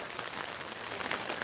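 Steady rain falls on surfaces outdoors near a garden pond, a dense, even hiss of droplets that stays constant throughout with no voices.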